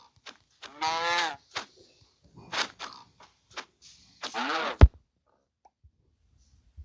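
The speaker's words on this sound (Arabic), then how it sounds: "هنا بقرة، تعال بقرة بالعيد." A cow moos in Minecraft in three separate, clear, close calls spaced a few seconds apart, with a short soft pop near the end.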